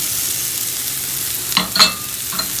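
Steady frying sizzle from a pan that is still heating up while vegan enchilada filling is cooked, with a couple of brief stirring scrapes near the end and no talk.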